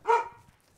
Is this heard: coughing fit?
no